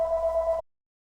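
A home phone rings in the hockey game NHL 26, one steady electronic warbling tone lasting about half a second and then cutting off to silence.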